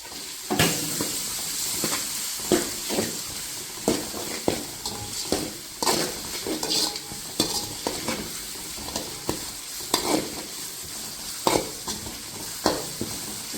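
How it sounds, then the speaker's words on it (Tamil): Crushed ginger and garlic fry in a pan with pepper and cumin for country chicken uppu kari, a steady sizzle broken by repeated scraping stirs of a spoon against the pan. "இப்போ இது கூட இஞ்சி பூண்டு போட்டுடலாம்"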